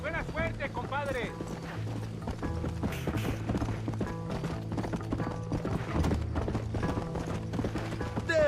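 Horse hooves clip-clop steadily in Red Dead Redemption, a regular trotting rhythm under continuous game music with people talking over it.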